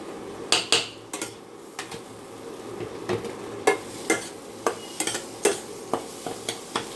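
Grated potato and egg filling being mixed in a bowl: a spoon scrapes and taps against the bowl in irregular strokes, with sharp metallic clinks standing out over a soft steady background.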